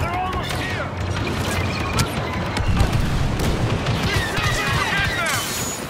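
Blaster gunfire during the defense of Naboo in Star Wars: Battlefront II, a loud dense barrage of shots, crashes and impacts, with voices calling out over the battle.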